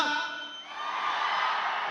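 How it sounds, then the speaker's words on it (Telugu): An audience at a film's pre-release event shouts and cheers in a loud, sustained roar of many voices that swells and holds throughout. "థియేటర్లో ఈ అరుపుల కోసం వెయిటింగ్"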